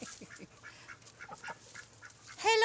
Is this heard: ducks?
yes